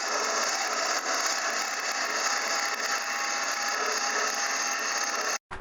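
Drilling wood on a lathe with a 1.5 inch Forstner bit, a steady loud whirring and grinding rush that runs almost unbroken, cutting out briefly near the end, with no talking.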